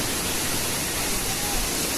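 Water pouring over the Ellapatti check dam near Theni, Chinnamanur, making a steady, dense broadband roar that fills the scene without a break.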